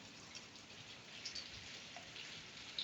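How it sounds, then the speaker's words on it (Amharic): Rain falling in the United Arab Emirates, a faint, steady hiss of drops with a few light patters and no voices. "በኢማራት ምድር ላይ ይህን ይመስላል ማለት ነው ዝናብ"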